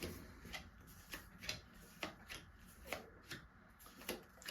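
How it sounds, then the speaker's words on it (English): Tarot cards are laid one by one onto a table, each landing as a soft papery slap in a steady rhythm, about ten placements close by and fairly quiet. "just going to lay down your 10 cards on the table"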